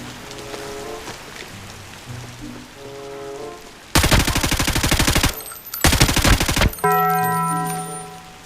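Two long bursts of rapid automatic gunfire from an Arena Breakout shootout at a motel, loud and close, cutting through a quieter background of soft game ambience and musical tones.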